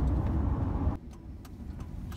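A car drives along with its engine running, a low rumbling drone that drops suddenly partway through and continues more quietly with a few faint clicks.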